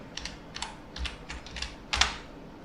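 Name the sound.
typing a Linux command on a computer keyboard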